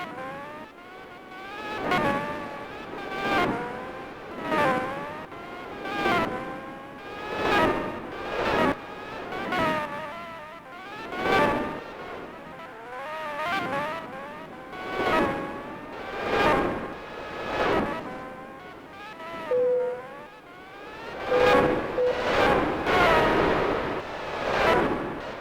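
Race car lapping a circuit in the video game Gran Turismo 4, its engine rising and falling in rapid repeated revving sweeps through gear changes, loud and steady throughout without any talk.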